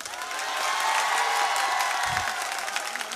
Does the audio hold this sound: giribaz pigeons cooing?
no